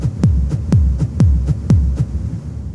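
Techno kick drum with reverb, dark thumping hits in a steady pulse, alternating strong and softer beats with a long low tail ringing out after each, about eight hits in all, loud with no voices.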